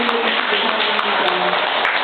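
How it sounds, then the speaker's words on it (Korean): An audience at a Won Buddhist New Year dharma service applauds together, a steady dense wash of clapping filling the room without pause, fairly loud and even throughout. "다 함께 박수로 감사하겠다는 의미를 해주셨습니다"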